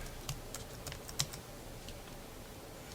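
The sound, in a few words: typing a catalog name on a computer keyboard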